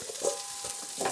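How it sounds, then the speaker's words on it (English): Soft, crackling sizzle of French fries in an air fryer, a brief steady hiss with faint pops. "sizzling."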